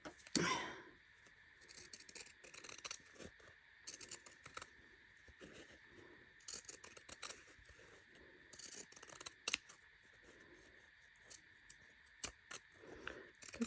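Scissors snipping through fabric for a punch needle project, a series of close, crisp cuts in irregular clusters over a quiet room.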